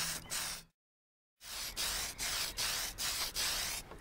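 Spray paint hissing onto a model car bodyshell as a red coat goes on, in repeated close bursts of roughly a third of a second, with one longer pause partway through.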